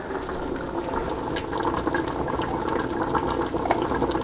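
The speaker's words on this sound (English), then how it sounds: "So I'm going to take the lid off now and let some of the extra water boil off there." Tomato soup boils in an open pot with the lid off, a continuous close bubbling and popping with a steady hiss and no talk.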